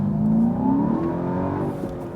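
A Seat Ibiza Cupra facelift with 192 hp accelerating in city traffic, its engine note climbing steadily in pitch as a continuous close, fairly loud rising drone through the gears, with no talk over it.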